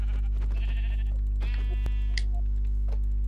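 A sheep in the video game Minecraft bleats twice in quick succession, short wavering cries over a steady low electrical hum, with no talking.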